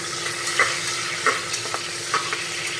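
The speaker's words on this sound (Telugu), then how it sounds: "గుండగా కట్ చేసుకుని టమాటా వేసుకోవాలి. ఇది ఒకసారి ఇలా కలుపుకొని" Chopped tomatoes fry in a pan with a steady close sizzle, while a spoon stirs them with several soft scraping strokes spaced at irregular intervals; no talking.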